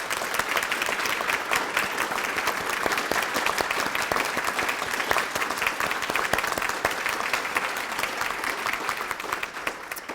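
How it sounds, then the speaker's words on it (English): A large audience at a women's awards evening gives a long, steady round of applause, dense and even throughout with no talking over it. "with a large round of applause"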